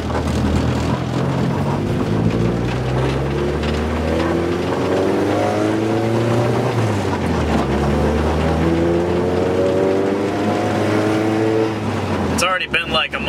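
A car drives along a road with a steady engine hum whose pitch climbs and falls through several gear changes, ending in a brief rattle or bump.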